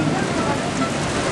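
Light rain falling outdoors, a dense, even hiss of drops on surfaces filling the whole short stretch at steady loudness.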